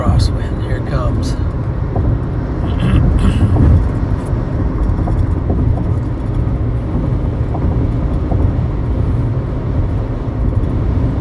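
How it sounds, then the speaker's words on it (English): Strong 70 mph crosswind gusting under a shelf cloud on the Nebraska plains, a loud, steady roar of wind buffeting continuously, with people talking over it. "Now we're getting the crosswind."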